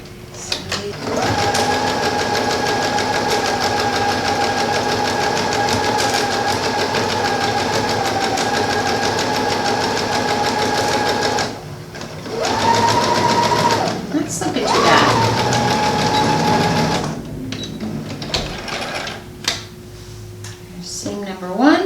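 A sewing machine stitches a 5/8 inch seam through pinned velvet, a steady loud whirring run that pauses briefly partway through, then resumes in shorter bursts before stopping.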